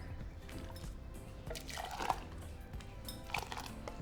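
Starchy water from cooking spaghetti is scooped out of the pot, with faint drips and small liquid splashes close by over a low kitchen background hum.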